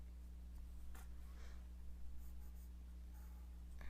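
A pencil traces a line on paper while an art student works on a tessellation cut-out. Soft, faint scratching strokes sit over a steady low electrical hum, and no one speaks.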